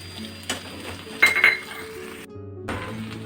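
Poppy seed paste scraped from a bowl onto taro stolons in a pan, with a few bright clinks of a spoon against the bowl over a soft background sizzle.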